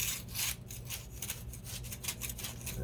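Scraping deposits off a wet, 100-year-old basement wall: continuous harsh rasping strokes of a scraper on masonry, close and fairly steady, with no talking.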